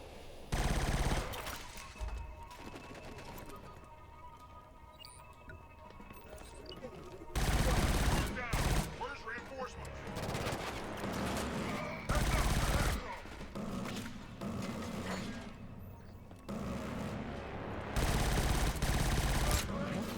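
Gunfire in the video game Killzone Shadow Fall, with loud bursts of shots and sustained automatic fire that come and go over a dense game soundscape, some stretches busier than others, with voice present at times.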